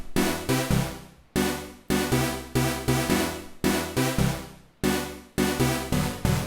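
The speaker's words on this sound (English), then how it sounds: "When it comes to the melodies, the sounds that we want to go for are saw sounds, trancey kind of saw sounds" Trancey saw-wave synth chords from the Zenology plugin play a rhythmic melody alone, in loud repeated stabs that swell and decay, with brief gaps between phrases and chords shifting between octaves.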